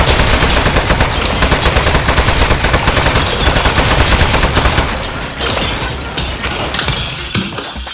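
Rapid automatic turret gunfire in the game Aperture Desk Job, a loud dense stream of shots that keeps going for several seconds before thinning into scattered bursts and clinks.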